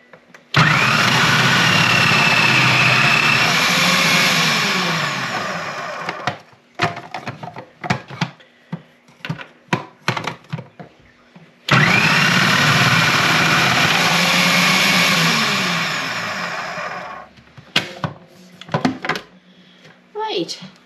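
A food processor fitted with a grating attachment whirs loudly in two bursts of several seconds each, shredding allotment vegetables such as leeks and carrots, with clattering and knocking between the runs.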